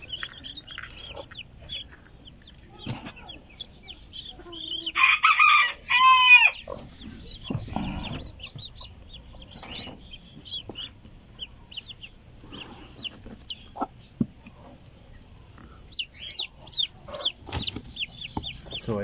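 A US Silkie hen and her chick in a backyard coop give soft, intermittent clucks and high peeps close by, with a louder squawking burst partway through and other fowl calling in the background.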